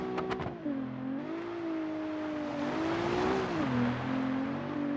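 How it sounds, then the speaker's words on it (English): A Group B rally car in the BeamNG driving simulator makes a handbrake turn, its engine droning and swooping in pitch as revs rise and fall, with a hissing tire squeal building through the middle of the slide. "Tried to engage the handbrake, but it was too late. Do it here. Nice handbrake turn."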